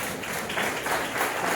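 A church congregation at a healing and deliverance service applauds, with a dense, sustained wash of many hands clapping and no talk.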